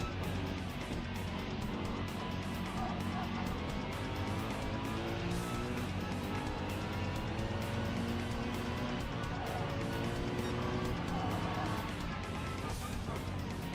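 Suzuki supercars racing in a Gen-X Dual34 Team Cup event, a steady dense roar of engines and passing cars running without a break throughout, loud and continuous.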